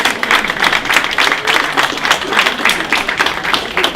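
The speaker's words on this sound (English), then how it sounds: "Is it okay if we can all give you a little clap" Audience at an exhibition presentation event claps in a steady, dense round of applause lasting throughout, fairly loud and close, with no speech over it.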